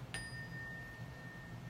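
A single bright chime strikes once near the start and rings on as a thin, sustained tone fading quietly over a low background hum.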